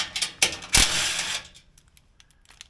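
A socket wrench ratchets and clicks as it is switched to a 13 mm socket while working on an aftermarket 4Runner or Tacoma bumper: a few sharp metallic clacks and a short burst of ratcheting, then scattered faint ticks.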